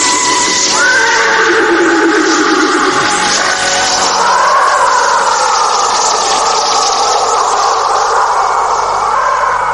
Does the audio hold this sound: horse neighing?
yes